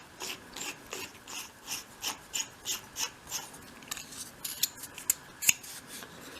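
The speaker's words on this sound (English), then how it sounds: "And then drill down into the little pencil dot." A tiny 0.75mm bit, about the size of a dressmaking pin, is worked into a pencil-marked dot on a 1/12 scale shop piece, making soft rhythmic scraping twists at close range that grow into sharper clicks toward the end.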